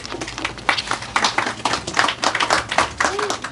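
Clapping from an audience welcoming a keynote speaker at a Bahama Islands co-operative credit union event, a loose, uneven patter of hands rising and falling for several seconds with murmured voices underneath.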